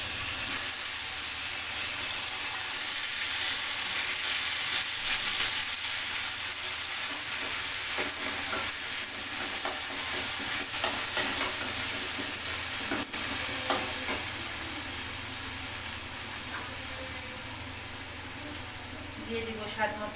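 Ginger, garlic, cumin and onion paste hits hot mustard oil and fries with a loud, steady sizzle and hiss, broken by faint utensil scrapes, tapering off slightly toward the end.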